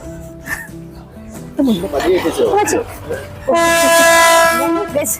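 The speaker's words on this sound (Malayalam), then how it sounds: "ഞാൻ ഇപ്പൊ പറഞ്ഞ ട്രെയിൻ ഇപ്പൊ പോകും" A train rumbles past close by while people talk over it, then a loud sustained horn blares near the end.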